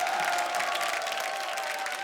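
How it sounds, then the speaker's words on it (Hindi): Continuous audience clapping on a comedy show stage, a dense even wash of applause with a faint steady tone beneath, heard alone for a couple of seconds. "क्या बात है, जोरदार तालियां एक और जोर से।"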